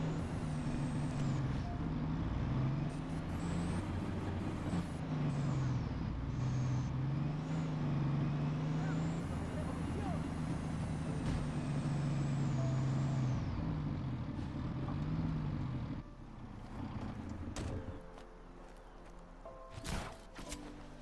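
A big heavy truck drives in the video game Just Cause 3 on PS4, its loud, steady engine drone filling most of the clip before dropping off near the end, with brief air-brake hisses and no talk.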